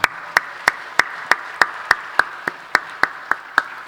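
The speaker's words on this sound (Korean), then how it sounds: "우리 영광의 박수 하나님께 올리겠습니다" A church congregation at a Korean full gospel church claps together in praise, about a dozen crisp unison claps in a steady beat, evenly spaced and moderately loud with no voices over them.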